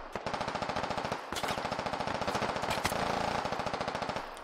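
Rapid, steady automatic machine-gun fire rattles through a Squad battlefield in a long sustained burst, loud and near, broken by one short pause and a few heavier shots.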